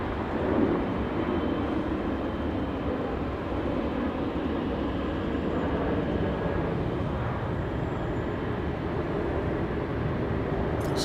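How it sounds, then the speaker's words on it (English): Air France airliner taxiing at Los Angeles International Airport, a steady, loud broadband engine rumble and roar holding evenly throughout without breaks. "Here we have the Air France commencing its taxi."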